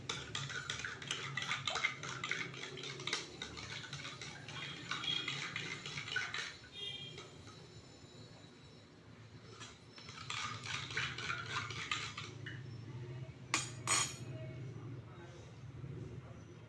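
Chalk powder stirred into water in a container, a run of light clinking and scraping from a spoon against the sides, continuing steadily and pausing briefly, with a voice talking over it.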